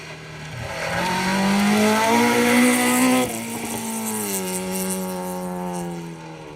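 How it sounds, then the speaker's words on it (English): Ford Mark II Escort rally car on a special stage of a Welsh championship rally, its raspy engine loud and close, revving up, shifting gear, then pulling hard again as it drives through. "The raspy engine sounds of Tim Phelps, Elwyn Manuel in their Mark II Escort."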